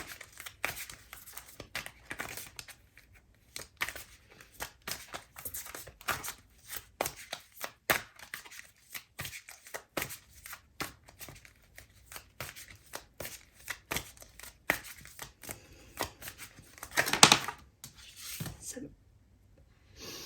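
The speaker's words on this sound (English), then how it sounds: "It's kind of a bad shuffle." Tarot cards shuffled repeatedly, with riffling and flicking bursts in an uneven rhythm, close up, while a person speaks softly between them.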